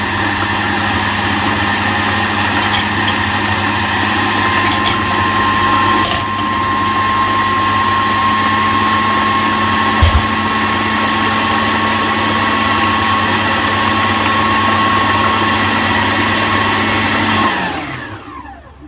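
Food processor whirring steadily as it mixes a raspberry tart cream cheese filling with thick cream, a loud, even motor whine held for many seconds before spinning down at the end.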